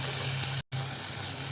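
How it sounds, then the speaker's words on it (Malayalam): Kudampuli tamarind water pours steadily into a Thrissur-style sardine curry, a close, continuous gushing splash broken by one brief cut before it resumes. "കുടംപുളിയും ചേർത്തിട്ടുള്ള വെള്ളം നമുക്കിതിലേക്ക് ചേർത്ത് കൊടുക്കാവുന്നതാണ്"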